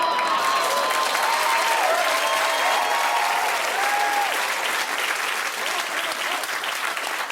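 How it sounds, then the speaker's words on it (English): A studio audience at a late-night comedy show applauds loudly and steadily, the clapping thinning slightly toward the end, with faint tonal sounds in the first seconds. "I will hold for your applause."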